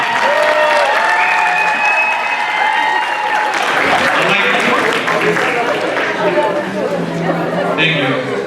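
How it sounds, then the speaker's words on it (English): Sustained audience applause fills a Diwali cultural program hall in Panama City, Florida, with dense clapping and crowd chatter throughout, and voices faintly audible beneath the ovation. "So please give a big round of applause for Sanjana and Karina Shah"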